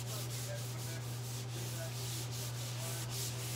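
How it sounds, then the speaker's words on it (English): Disinfectant wipe rubbed across a work surface and cart in a lash-application setting, a steady close scrubbing texture with repeated strokes over a constant low hum. "So we're wiping our area,"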